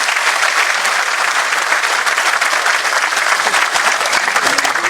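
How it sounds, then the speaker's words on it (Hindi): A large crowd at a public gathering breaks into loud, sustained applause, a dense and even roar of clapping with no pause. "जोरदार तालियां बजाएं इस बात के"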